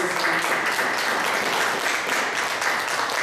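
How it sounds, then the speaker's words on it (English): Applause from an audience at a charity fundraising dinner press event, a dense, steady wash of many hands clapping, loud and continuous throughout with no voices standing out. "Give a round of applause for their volunteers"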